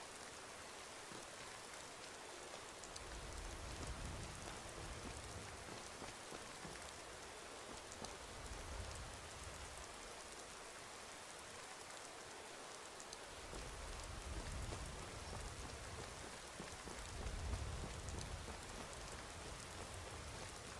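Steady rain falls in Skyrim with the Obsidian Weather mod, a continuous broadband hiss of drops with slow surges in intensity and a low rumble underneath, with no voices.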